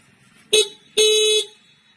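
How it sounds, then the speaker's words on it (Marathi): Two close, loud horn blasts sound from a vehicle waiting outside a friend's house in the morning, a short toot followed by a longer half-second honk, with no talk. "माग वाजवतो."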